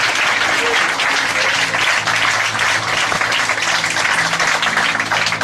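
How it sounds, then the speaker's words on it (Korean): A church congregation claps together in worship. The applause is loud, full and sustained, with a faint background tone or music beneath it throughout. "이 시간 주님께 박수로 영광을 올려드립니다."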